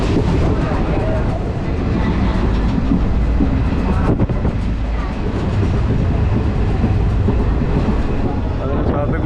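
A local passenger train runs from Madurai to Ramanathapuram past ripening paddy fields, heard from on board as a loud, continuous rumble and rattle of the carriages, with some voices mixed in.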